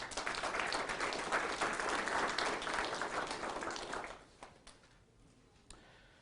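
Audience applause for city staff at a State of the City address in Abilene, a loud, dense burst of clapping lasting about four seconds, then fading quickly to a quiet room with a few stray claps.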